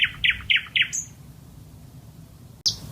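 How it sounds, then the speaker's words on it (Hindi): A bulbul chirps four quick, bright notes in a steady run, then goes quiet before one more sharp call near the end, clear and close over soft background noise. "बे बुलबुल,"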